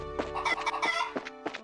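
Chicken clucking in the video game Trails in the Sky SC: a run of short, bright clucks and squawks in quick uneven bursts, close and clear, with no talking over them.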